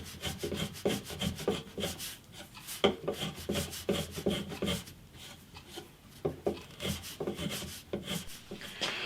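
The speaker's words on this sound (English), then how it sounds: "Just going to take a couple of shavings off this top corner here." Wooden bass guitar body corner being shaved down by hand, a steady series of rasping, scraping strokes close by with no talking.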